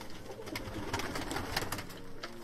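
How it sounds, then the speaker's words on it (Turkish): Several birds cooing in soft, overlapping calls, close by and steady throughout, with rustling and fluttering in the background. "Maşallah Utku baya da kuş var sizde ya."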